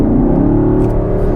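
A 2016 Chevy Camaro SS with an MBRP Phastek exhaust drones from inside the cabin, a loud, steady low rumble under load with a faint whir, brief and continuous.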